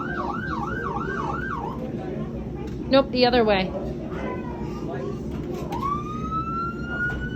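A toy fire truck siren wails in repeated rising and falling sweeps, then a higher upward sweep, playing steadily under a child's and an adult's voices in a noisy room.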